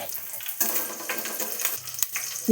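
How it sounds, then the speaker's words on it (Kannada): Oil sizzles and crackles in a pan as 3-4 green chillies fry for chicken dry chilli, the hiss rising and falling close by, with a brief clatter near the end. "ಅದಕ್ಕೆ 3-4 ಹಸಿಮೆಣಸು ಹಾಕೊಂಡು ಸ್ವಲ್ಪ ಫ್ರೈ ಮಾಡ್ಕೊಳ್ವಾ."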